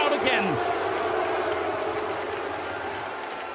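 Arena crowd at a Counter-Strike major esports match, a broad roar of cheering and applause that fades gradually, with commentator speech over it.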